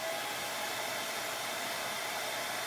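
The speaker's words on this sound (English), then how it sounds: "So I'm gonna do another pass with a blow dryer" A blow dryer dries chalk paint on a wood tag, a steady, close, continuous airy whoosh that holds at an even level with no talk.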